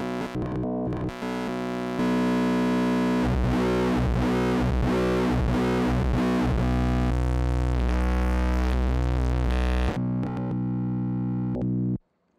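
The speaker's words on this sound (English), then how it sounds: "if we change the output waveform, we get all sorts of different tones" A WMD Phase Displacement Oscillator synth module plays sustained, harmonically rich tones whose character shifts as the output waveform changes, with pulsing modulated bursts in the middle before cutting out near the end.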